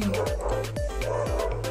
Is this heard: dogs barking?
yes